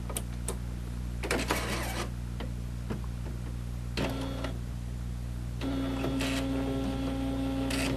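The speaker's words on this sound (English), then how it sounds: "So let's turn the printer on." An Epson R2400 photo printer loaded with roll paper powers on and runs, giving steady mechanical whirring, clicks and ticking carriage movements with a sustained motor tone near the end, close and moderately quiet.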